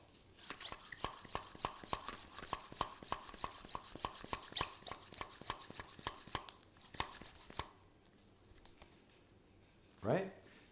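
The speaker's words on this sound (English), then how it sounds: "You start to pump." A hand pump inflates a back-pain relief device in a rapid, steady run of rhythmic strokes, then stops; a short hiss or release follows near the end.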